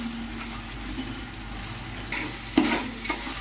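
Coriander, curry leaves, ginger paste and coconut paste frying in a pan, a steady close sizzle with a sharper burst of crackling and stirring scrapes near the end, no talking.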